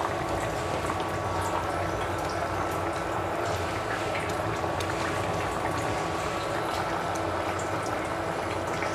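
Poa fish curry simmers in a pot over low heat, giving a continuous dense bubbling hiss that stays even and close throughout.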